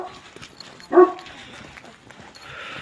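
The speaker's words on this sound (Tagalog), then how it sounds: "Medyo malaki nga lang yung aso dito." A large dog gives a single loud bark near the microphone, standing out briefly against faint background noise, with no speech.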